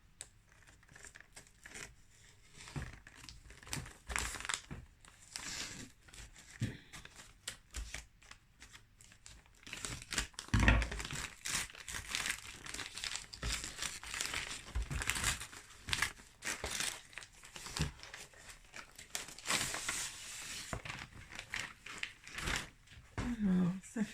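A gift package from an advent calendar being unwrapped, with crinkling paper and plastic, tearing and rustling in uneven bursts close by, alongside some talking.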